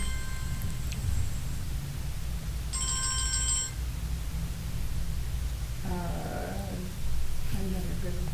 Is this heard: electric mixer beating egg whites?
no